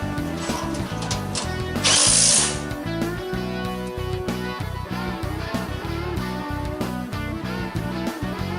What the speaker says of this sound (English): Go ahead and tighten up all your nuts and bolts.